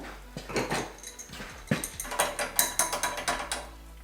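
Ratchet wrench loosening a screw on a turbocharged EFI 660 lawnmower engine, a close run of rapid mechanical clicks that grows louder and more regular in the second half, with no talking.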